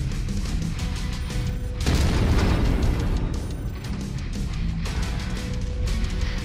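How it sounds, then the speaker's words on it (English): A bright explosion in Mechwarrior 5: Mercenaries gameplay, a sudden loud booming burst near two seconds that sits over continuous dense battle noise and rumble, with a second swell later in the clip. "That was a bright explosion."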